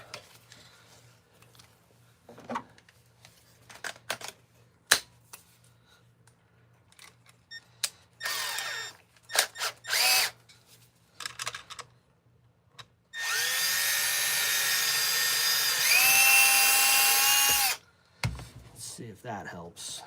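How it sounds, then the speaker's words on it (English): A power drill with a bit runs in short bursts and then one long sustained whine during an RC10T truck repair, interspersed with clicks, handling noises and talk. "All right, drill bit, drill time."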